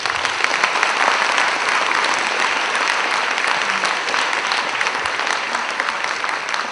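An indoor audience applauds a speaker at the end of a talk on aging and gene expression, a dense, even clapping that holds steady and fairly loud throughout.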